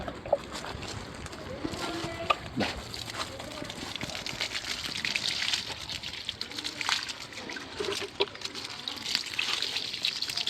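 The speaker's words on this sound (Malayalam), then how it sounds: "വിത്തൊക്കെ കുത്തിയിട്ട് നമ്മളതിനെ നനച്ചു കൊടുക്കാണ് വീണ്ടും നന്നായി നനച്ചു കൊടുക്കുന്നുണ്ട്" Seeds pressed into soil in a grow box are watered, a steady trickling and splashing of water running through most of the stretch, fairly close, with brief louder gushes and light handling noises.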